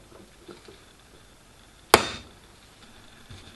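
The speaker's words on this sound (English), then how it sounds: "Stamp it with an 8 so there's no confusion." A single sharp metal punch strike stamping a number into a wooden woodworking guide, one crisp close impact with a short ringing decay amid otherwise quiet room tone.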